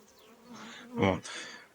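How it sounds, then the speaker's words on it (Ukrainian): A honeybee swarm buzzes at an apiary as it crawls onto hive frames: a soft, close insect drone that swells to a louder burst near the middle, then eases off. "Рій починає помаленьку туди переповзати."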